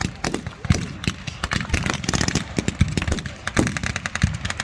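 Battle reenactment gunfire at Military Odyssey: a rapid, irregular string of sharp cracks and bangs from both sides, some near and loud, others softer and more distant, overlapping with little pause.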